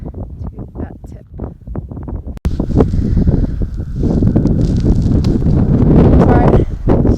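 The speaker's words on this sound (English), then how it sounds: "But it's really windy." Strong wind on an exposed Colorado mountain trail buffets the microphone with a loud, continuous roar that swells toward the end, with people talking over the start.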